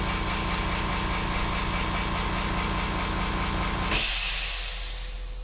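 Airbrush spraying India ink onto paper for a portrait painting, a steady close hiss of compressed air running continuously, then a sharper, brighter burst of air near the end that slowly fades.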